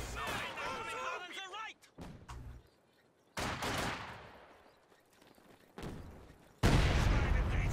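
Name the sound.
mine explosion in the video game Company of Heroes 2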